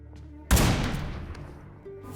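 A single sharp, loud sniper rifle shot in the mobile battle royale game BGMI bursts out after a quiet moment, then its echo fades slowly over more than a second.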